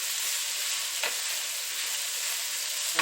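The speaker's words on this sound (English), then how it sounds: "So I'm just going to let them saute a little bit." Diced potatoes sauteing in a pot for potato soup give a steady, loud, even sizzle throughout, with a couple of faint stirring clicks and no talking.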